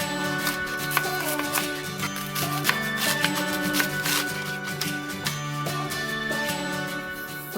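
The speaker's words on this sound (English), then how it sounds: "When you're done dicing the chives" Fresh chives are diced with a knife on a cutting board, giving quick, close rhythmic chopping taps over steady background music.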